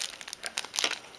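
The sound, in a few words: plastic bag crinkling over a nail wrap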